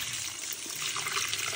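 Tap water pours and splashes into a cooking pot as it is filled to make harissa, a continuous rushing trickle that grows slightly louder toward the end, without speech.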